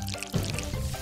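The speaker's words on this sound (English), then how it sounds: "Pour magical slime." Magical slime is poured while making a clay doll craft, giving a brief soft liquid glug and trickle, close and moderately quiet, with no talking.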